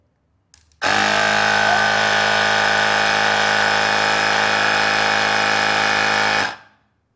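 An Agaro electric tyre inflator fills a ball with air, giving one loud, steady mechanical buzz close by for about six seconds before it cuts off.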